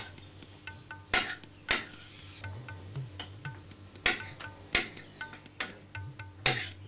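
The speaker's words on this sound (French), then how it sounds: "Voilà, là nous finis coupe nos betteraves" A knife chops beetroot into squares on a cutting board, giving sharp irregular knocks, several loud ones with lighter taps between, and faint kitchen clatter behind them.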